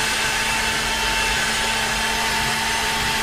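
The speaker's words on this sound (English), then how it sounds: "This is something a blender is really good for" Kitchen blender liquefying onion and garlic for a tomato soup salad dressing, a loud steady whirring motor hum running continuously without pause, no voices.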